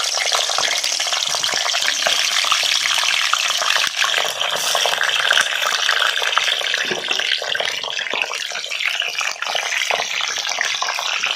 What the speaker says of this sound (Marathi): एक दोन तीन मिनटं ढबू मिरची तेलामध्ये तळून घ्यायची आहे